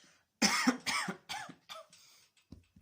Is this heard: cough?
yes